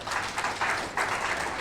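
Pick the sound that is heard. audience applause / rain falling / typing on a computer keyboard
audience applause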